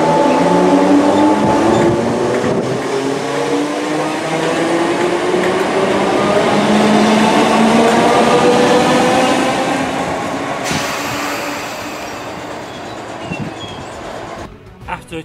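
Merseyrail electric train travelling toward Chester, heard from inside as a loud, steady rumble with rising and falling motor whine and wheel noise, easing quieter near the end.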